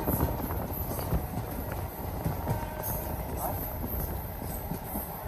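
The Bhagalpur-Muzaffarpur Jansewa Express rolls along with a steady rumbling clatter of wheels and carriages, heard from close by, with a high whine above the noise.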